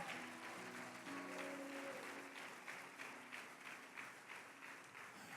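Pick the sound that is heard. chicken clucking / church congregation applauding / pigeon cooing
church congregation applauding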